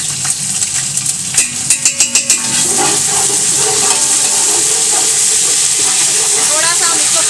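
Garlic-ginger paste frying in a pot for chicken pulao, a steady broadband hiss and sizzle filling the clip after a few sharp clatters near the start, close and fairly loud.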